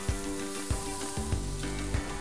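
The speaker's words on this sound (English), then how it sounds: "Because the pan is nice and hot, you can hear that sear." Pork tenderloin searing on a hot broiler pan gives a steady, close, hissing sizzle that runs throughout, with a few soft knocks on top.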